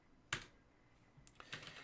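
A computer keyboard is typed on during Android app development. There is one sharp keystroke, then a short pause and a quick cluster of several key presses, close and quiet, with no voice.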